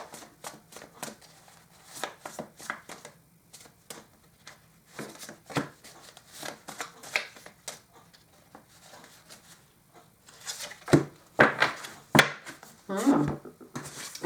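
Tarot cards being shuffled and drawn, irregular bursts of close crisp riffling and slapping, growing louder and denser toward the end, with a faint voice briefly in the background.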